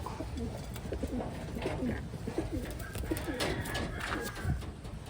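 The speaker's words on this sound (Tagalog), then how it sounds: "Ito siya mga kalapatids ha." Pencil and blue bar pigeons coo in a loft, with a run of soft, low, rolling coos close by and faint background rustling.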